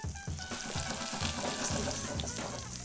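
Bell peppers and garlic fry in olive oil in a pan, giving a steady, close sizzle with bursts of crackling and faint stirring scrapes, no voices.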